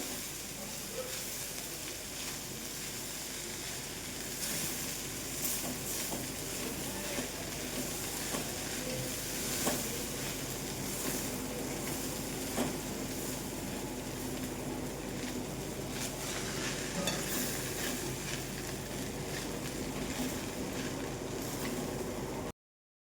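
Vegetable peanut pulao rice is gently turned in a pan, soft scraping stirs and light clinks over a continuous faint frying hiss and sizzle, steady and close with no talking.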